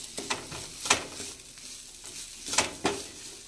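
Sauce for a sourdough pasta primavera, seasoned with cilantro, is stirred as it melts in a hot pan: intermittent scraping and clinking strokes over a soft, steady sizzle, fairly close and moderately quiet, with no talking.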